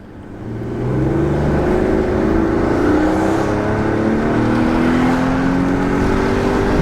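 A high-mileage Audi A6 Quattro accelerating hard from inside the cabin, engine drone rising steadily and climbing through gear changes with a loud, continuous whir and no talking.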